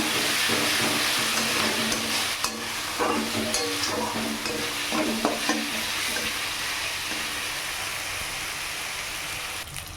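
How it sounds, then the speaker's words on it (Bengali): Onion-garlic paste fried with spices in a pan for koi fish curry, a dense loud sizzle with repeated scraping stirs and occasional clinks over ten seconds, no talking. "এখানে পেঁয়াজ রসুন বাটায় 2 মিনিট নাড়াচাড়া করে নিলাম"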